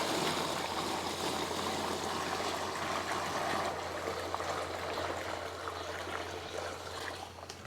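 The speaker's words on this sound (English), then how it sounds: "I'm going to try to pour this in here without making a big mess." Liquid for zinc plating poured steadily into a container, a continuous close splashing trickle with no talk, easing slightly toward the end.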